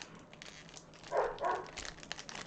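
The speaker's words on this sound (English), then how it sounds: "Can't believe that my dog is barking in my..." Pet dog barking indoors, two faint, muffled barks in the middle, heard from some distance over quiet room noise and light crinkling of packaging.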